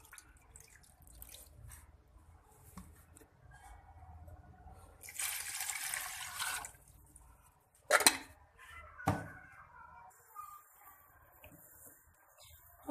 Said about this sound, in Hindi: और शामिल कर देंगे पानी।